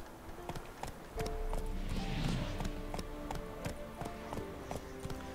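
Rhythmic clip-clop of horse hooves trotting steadily in The Witcher 3: Wild Hunt video game, fairly faint, with a brief burst of rushing noise in the middle.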